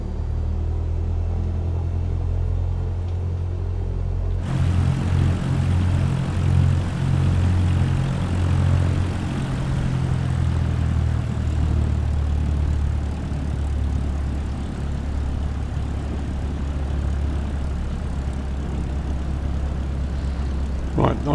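A bush plane's propeller engine rumbles steadily as it taxis toward the runway in Botswana, a low, close droning hum that thickens and grows louder after a few seconds and continues throughout.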